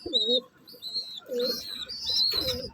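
Young birds in a new double cage give a series of high, thin chirps mixed with lower cooing notes, close by and repeated in short bursts against a quiet background.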